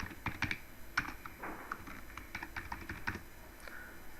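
Someone types a Hello World program on a computer keyboard, producing a steady run of close, crisp key clicks with irregular rhythm and no voices.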